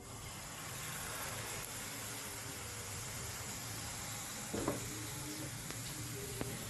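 A steady, soft sizzle of ground spice paste frying in a hot pan, with a few light scraping clicks from stirring near the end.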